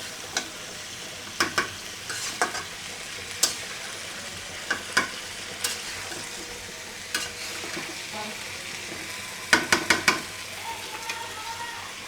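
Vegetable curry is sautéed with assorted spices in a pan, a low continuous sizzle broken by repeated sharp spatula scrapes and stirs, several in quick clusters toward the end.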